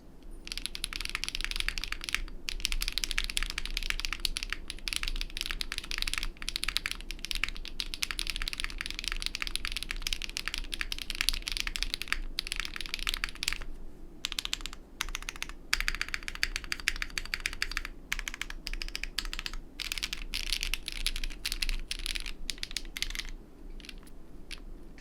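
Steady, brisk typing on a Freya Ultra mechanical keyboard built without any foam, giving a close, continuous stream of crisp clacks with occasional deeper spacebar hits and brief pauses.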